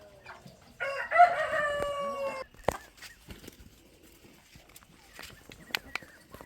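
Chickens on a backyard poultry farm, including three-month-old naked-neck birds near Rhodes hens: a rooster's loud, close crow dominates the start, and scattered clucks and soft fowl noises follow at lower level.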